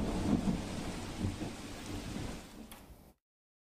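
Heavy rain pouring down during an incessant rainstorm over farmland in Banaskantha, a dense steady roar with deep thunder rumbles, fading slightly before cutting to silence near the end.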